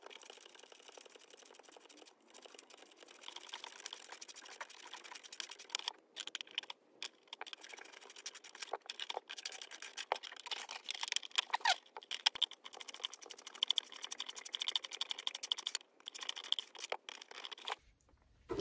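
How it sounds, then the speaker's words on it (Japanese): A 5 mm hole is drilled into the plastic rear wing of a Lancer Evolution model car body, giving a steady, close, scratchy grinding with brief pauses between bursts. "リアウィングのところ穴開けていきます。"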